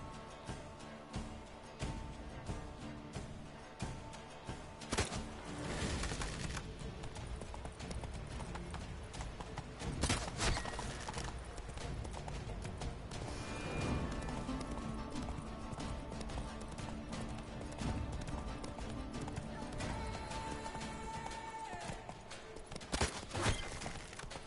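Roach the horse gallops in Witcher 3, rapid rhythmic clip-clop of hooves running steadily throughout, with an occasional whinny and game sounds layered over it.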